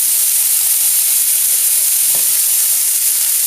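Paella ingredients fry hard in a hot pan, giving a loud, steady sizzle and hiss with occasional stirring clicks and no talk.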